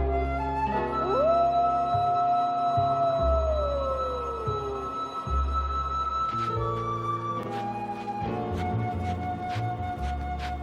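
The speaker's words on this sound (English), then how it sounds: "a wolf sat on the rock that was Sylvester and howled and howled because he was hungry" A lone wolf howling from a story about a hungry wolf sitting on a rock, a long rising then slowly falling howl followed by shorter wavering howls over a steady low background.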